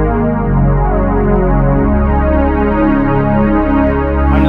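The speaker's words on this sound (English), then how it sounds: "This is a super analog pad," Warm analog-style synth pad from a Korg Kross keyboard holds a slowly shifting chord, steady and loud, with no talking over it.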